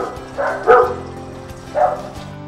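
A dog at a customer's home barks loudly and close by, two sharp woofs in quick succession followed after a pause by a third, all with no one talking.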